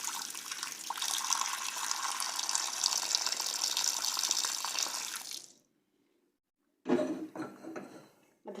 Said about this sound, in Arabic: هذا 3 كيسان تاع الماء.